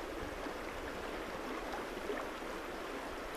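A steady river current near Sedona, Arizona streams past in a constant full-bodied hiss, with faint low gurgles and no change in level from start to end, free of speech.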